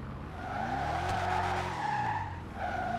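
A car drifts in a video game, its tires squealing in a long, loud, continuous skid over a steady engine tone, heard alone without talk.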